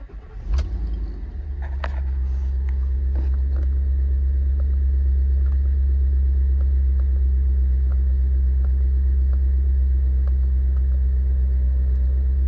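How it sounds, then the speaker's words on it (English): A 2021 Ford F600 service truck with a 7.3 V8 and 4x4 driving, a loud steady low engine drone heard from inside the cab after a few clunks and rattles at the start. "I'm gonna hop in the truck and take it for a quick spin."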